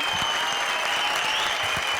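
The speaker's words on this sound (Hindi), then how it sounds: "मोना सिंह के लिए जोरदार तालियां" A studio audience at a TV comedy show gives actress Mona Singh a loud round of applause, a sustained wall of clapping with faint tonal music running beneath it.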